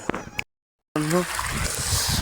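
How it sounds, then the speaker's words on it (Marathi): On a farm, water flows from a pipe onto grass with a soft, continuous trickling splash. A voice speaks over it after a brief gap of silence. "आता मी लावलं आहे घासावर पाणी"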